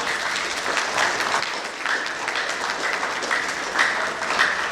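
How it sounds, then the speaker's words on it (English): Audience applause at a school jazz band concert for grades 7 and 8, a dense steady clatter of many hands clapping at moderate volume, with scattered louder claps and no talking. "can we give a big round of applause to your parents for being here?"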